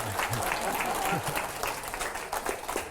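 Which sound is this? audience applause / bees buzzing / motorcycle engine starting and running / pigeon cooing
audience applause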